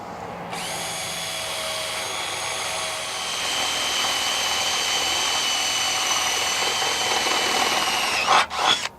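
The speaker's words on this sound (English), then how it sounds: "you can drill your second hole" A power drill with a 3/8 bit whines steadily and loudly, boring through material for several seconds, then spins down with a brief rattling burst at the end.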